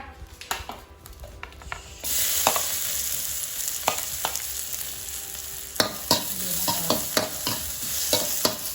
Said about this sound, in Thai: เราก็จะผัดคะน้านะคะ